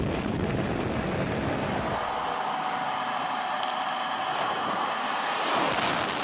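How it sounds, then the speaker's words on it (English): Helicopter flying high above the Swiss Alps, a steady broadband rotor and engine roar with wind-like rush, loud at first and thinning in the low end after a couple of seconds, with no voices. "51-year-old Yves Rossi has decided to jump from a helicopter"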